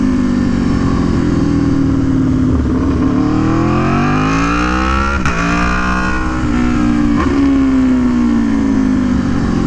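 An Aprilia Tuono V4 1100 Factory motorcycle roars loud and close while riding and cornering, its engine pitch sweeping up and down through gear changes and throttle shifts over constant wind rush.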